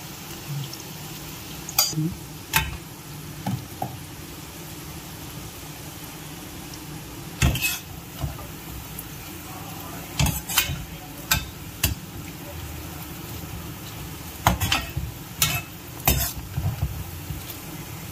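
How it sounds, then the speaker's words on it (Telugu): Fish pakodi frying in hot oil, a steady low bubbling sizzle running throughout, broken by scattered sharp clicks and scrapes of a utensil against the pan, no voices. "ఇలా వేయించుకోవాలి గోల్డెన్ రంగు వచ్చే వరకు"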